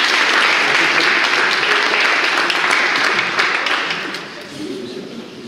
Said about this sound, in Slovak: Potlesk pre vás a pre vás chlapi.